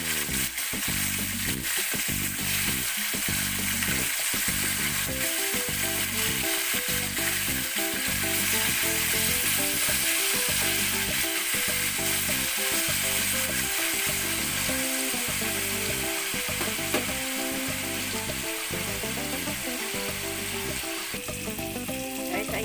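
Pork steak frying and sizzling in a pan, a loud continuous close sizzle with stirring over steady background music, no one talking.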